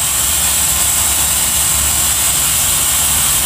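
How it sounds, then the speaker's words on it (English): The drain valve on an air compressor tank is opened and releases a loud, steady, unbroken hiss of escaping air, heard close and with no talking. "What you're hearing here is I just opened the drain on the air compressor to let all the air out of the tank."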